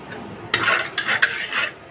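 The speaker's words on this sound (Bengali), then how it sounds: "চলো মাছটি ভেজে নিই" Fish going into hot oil in a home kitchen, a burst of crackling sizzle with clinks of a utensil against the pan, close, with no talk.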